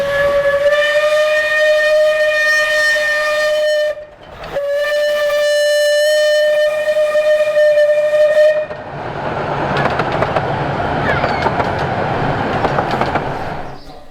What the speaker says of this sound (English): the through train hammers past